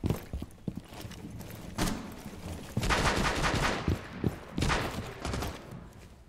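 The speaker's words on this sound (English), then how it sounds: "This might be the most dead gun battle in the history of Siege." Gunfire during a sparse gun battle in the video game Rainbow Six Siege: several separate bursts of shots with quiet gaps between them, moderately loud and with no talking.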